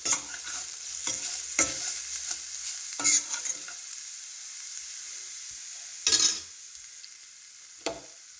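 Spices and vegetables for a drumstick sabzi sauté in a pan, with a soft sizzle broken by several sharp spoon stirs and scrapes at irregular intervals, close by and without speech.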